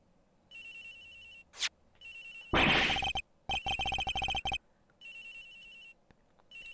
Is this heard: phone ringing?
yes